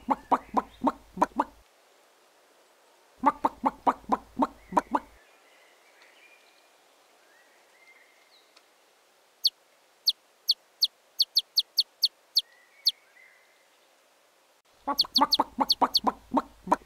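Cartoon chickens in a henhouse cluck in rapid bursts at the start, middle and end, loud and close, with sharp high chirps scattered through a quieter stretch in between.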